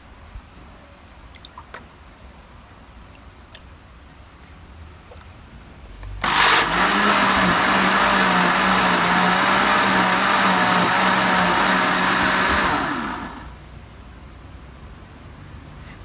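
A kitchen blender whirs loudly while blending Thai coconut custard (sangkhaya), switching on abruptly, running steadily for about seven seconds, then winding down, with a quiet room before and after.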